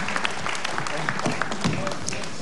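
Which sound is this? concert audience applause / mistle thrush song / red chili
concert audience applause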